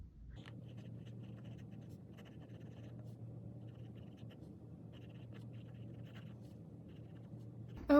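A pen scratches across paper while a paragraph is handwritten, giving steady light strokes in short clustered bursts over a low constant background hum.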